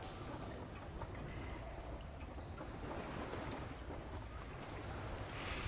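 Recorded sea sounds play back faintly: a steady wash of surf and wind noise with a constant, low-level roar and no distinct wave breaks, alone without talk.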